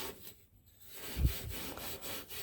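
A Scotch-Brite pad rubs back and forth against a radiator hose fitting in short, quiet scrubbing strokes, a soft abrasive rasp close by with no talking.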